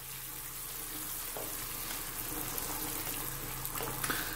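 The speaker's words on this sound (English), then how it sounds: "Now let's give it a little stir." Chicken adobo brought to a boil in a pot and given a quick stir, a steady bubbling simmer with faint scraping and clinks, no talking.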